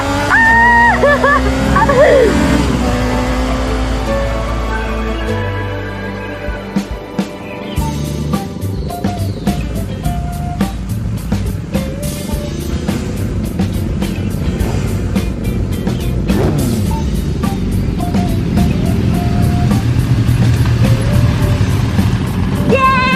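A car speeds along with a loud, steady engine roar and rushing road noise, the pitch rising and shifting as it accelerates, with voices heard over it.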